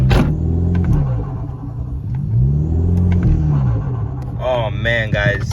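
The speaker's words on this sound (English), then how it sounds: "we're trying to get an in-car clip of what the intake sounds like" Car engine with a DIY cold air intake heard from inside the cabin: a steady low rumble with rising and falling revving and intake whoosh, loud and close, with a voice near the end.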